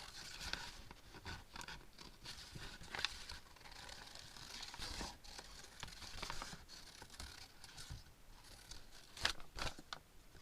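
Scissors snip through recycled CDs in a series of quick, crisp cuts with small clicks and rustles, close and moderately quiet, with no talking.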